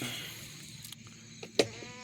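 Goats bleating on a farm pasture: a couple of nasal bleats, the last one louder and closer, over quiet outdoor background.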